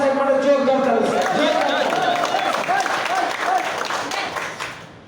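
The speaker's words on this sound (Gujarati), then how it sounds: "જોરદાર તાળી છે" A seminar audience in Limdi, Dahod claps loudly and steadily, a dense wave of applause with crowd murmur and voices over it, fading out toward the end.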